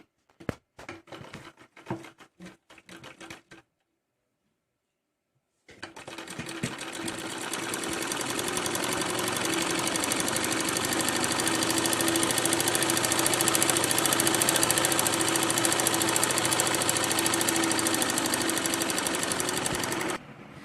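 A sewing machine stitching salwar pieces runs in short bursts, pauses briefly in silence, then hums steadily and loudly in one long continuous run.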